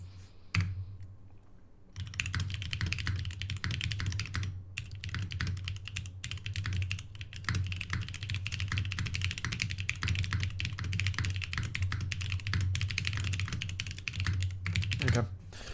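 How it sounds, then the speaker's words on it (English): Fast, dense typing on a computer keyboard, a steady stream of close clicks and key strikes running almost the whole time after a short quiet start, with a low hum underneath and no speech. "That was kind of fucking clean typing."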